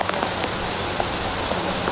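Steady rain pours down on a flooded street deep enough to hide scooter tyres, a dense even hiss with scattered brief drop spatters throughout, close and continuous with no voices.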